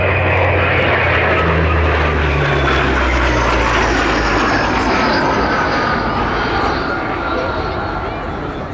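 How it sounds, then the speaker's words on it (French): Breguet Atlantique 2 maritime patrol aircraft of the Marine Nationale at the Breizh Airshow 2024, a loud, broad propeller-engine roar sweeping past low over the water with a falling drone, while an announcer's voice talks over it. "on voit l'Atlantique 2 qui s'approche"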